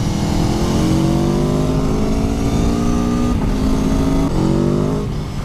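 Aprilia Tuono V4 motorcycle accelerating hard through gears with quickshifter blipper: loud rising engine howl with several brief shift dips, continuous and close, no talking.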